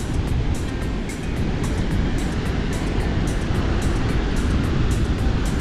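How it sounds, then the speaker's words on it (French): Rough sea waves on Batu Caras beach, a steady loud roar of surf with a continuous wash of broken water and no clear pauses, close by, with wind-like hiss throughout. "La mer est déchaînée hein"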